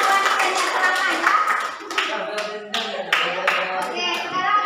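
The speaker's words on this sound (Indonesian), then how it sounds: "Sekarang kita beri tepuk tangan dulu untuk kelompok dua." Classroom applause for a student group during a teaching practice session, a steady burst of many hands clapping close by, mixed with children's chatter and voices throughout.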